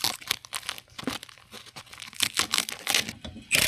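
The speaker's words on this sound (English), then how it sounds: "You gonna get the sticker off?" A sticker is peeled off a new trailer tire, giving a close series of ragged tearing and crinkling bursts that come in uneven spurts with brief pauses between.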